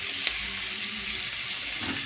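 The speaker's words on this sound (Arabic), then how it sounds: "انا حطيت لها معلقة سمنة او زبدة تتشوح فيها." Chopped onion sautéing in a spoonful of ghee or butter in a pan, giving a steady, soft sizzle close by that holds evenly throughout with a faint clink partway through.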